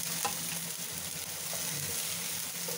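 Boiled corn kernels being stirred with lightly softened vegetables in a hot pan, giving a steady soft sizzle with scraping spoon strokes throughout, close and fairly loud, no voices.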